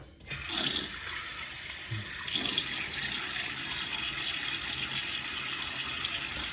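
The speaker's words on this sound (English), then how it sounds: "Let me get my face wet." A bathroom tap runs steadily while someone wets their face before a shave, the water splashing close and loud, with a couple of brief splashy surges near the start.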